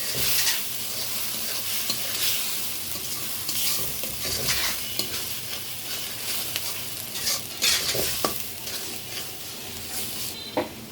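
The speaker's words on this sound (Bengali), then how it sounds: "এখানে আমি মশলা কষানোর মধ্যে অল্প জল দিব" Spice masala fried in a pan with a little water, with a loud, continuous sizzle and repeated scraping strokes of a spatula, some sharper crackles flaring now and then.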